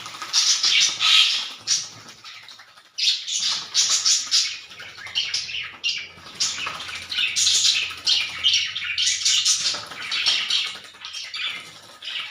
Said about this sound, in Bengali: এভাবে গোসল করাবেন শালিক পাখিরে